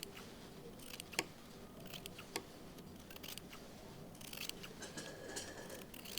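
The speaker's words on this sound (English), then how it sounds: "you're going to cut off all those frayed edges" Scissors trim the frayed fabric edges from a shirt hem seam in a series of faint, crisp, irregular snips close by in a quiet room.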